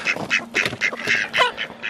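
Birds on a mountain homestead at sunrise give a quick run of harsh, duck-like quacking calls, about eight bursts in under two seconds, fairly close and steady with no talking.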